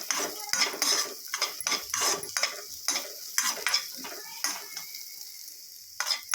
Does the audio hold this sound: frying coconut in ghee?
yes